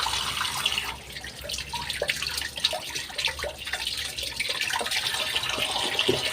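Water tap running steadily into a sink while a peeled snake gourd is rinsed, a continuous hiss of flowing water with small splashes and drips, no talking.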